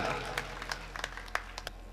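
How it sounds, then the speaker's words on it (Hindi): Scattered clapping from a crowd at a Hindu New Year poetry gathering (kavi sammelan) in Bhinmal, with sparse irregular claps over a steady background hum and some voices. "अरे उन शहीदों की आत्माओं पर क्या गुजरी होगी जो मर मिटे अपने वतन हिंदुस्तान के नाम पर। जोरदार तालियां।"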